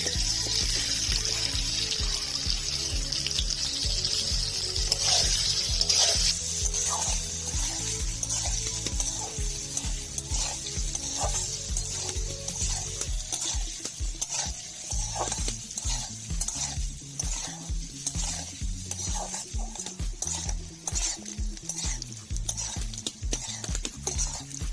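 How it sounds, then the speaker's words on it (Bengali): Boiled potatoes frying in hot oil for an egg masala dish, a continuous close sizzle with frequent stirring and scraping strokes that grow more rhythmic in the second half. "সিদ্ধ করা আলুগুলো ভেজে নেব।"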